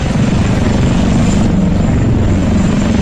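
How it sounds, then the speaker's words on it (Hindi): A military drone launched near a seashore climbs away, making a loud, steady rotor drone with a whirring buzz that holds unbroken throughout. "बम, गोला, बारूद और मिसाइल लेकर ये ड्रोन उड़ गया।"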